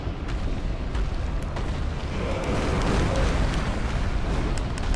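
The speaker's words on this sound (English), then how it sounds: "Oh sure, just breathe fire on me." Fire breath from the Demon King boss in Dark Souls 3, a sustained roaring, rumbling blast of flame that swells slightly midway, loud and continuous with small crackling bursts.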